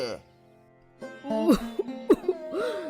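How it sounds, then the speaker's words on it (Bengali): A single cough sounds up close, and a person speaks in the moments around it. "কাশিটা আগের চেয়ে অনেক বেশি"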